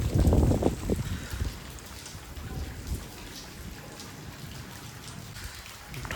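Steady rain hissing and pattering on surfaces nearby, louder at the start and then settling into an even, continuous patter.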